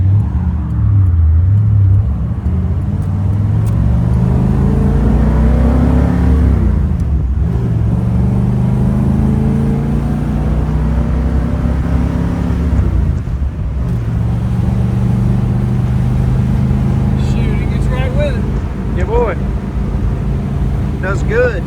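A 1956 Ford Fairlane Sunliner convertible drives along with a loud, steady engine drone that rises through each gear and dips sharply at shifts around seven and thirteen seconds, with a voice talking over it.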